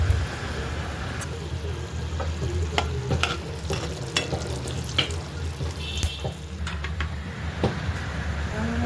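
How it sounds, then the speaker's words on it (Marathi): Whole garam masala spices hit hot oil in a wok, giving a loud, continuous sizzle broken by sharp clinks and scrapes of a stirring utensil. "तेल गरम होत आहे. त्याच्यामध्ये टाकला आता गरम मसाला."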